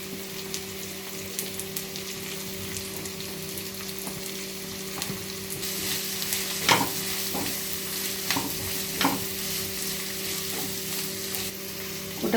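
Finely sliced large onion frying in a pan for a tiger prawn roast, a steady close sizzle with occasional sharp stirring scrapes that grow busier toward the end, no voices.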